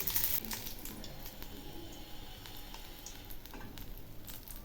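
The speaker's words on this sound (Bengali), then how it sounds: "এখন আমি ওই তেলে সামান্য একটু জিরে ফোড়ন দিলাম" Cumin seeds crackle and sizzle in hot oil left from frying katla fish, a steady close spattering hiss with a few sharper pops, no talking.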